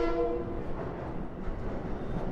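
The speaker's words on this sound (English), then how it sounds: "there's a Long Island Railroad or Amtrak making its way towards Sunnyside Yards. Nice horn action." A Long Island Rail Road or Amtrak train heading toward Sunnyside Yard in Long Island City, Queens, sounds a brief horn blast at the start, then rolls past with a steady low rumble, moderately distant and with no talking.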